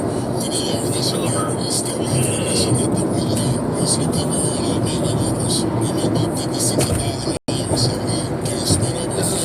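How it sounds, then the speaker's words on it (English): Heavy freeway traffic with trucks, heard from inside a moving vehicle as a steady, loud broadband roar with a brief dropout near the end. "This is a very heavily populated freeway with trucks."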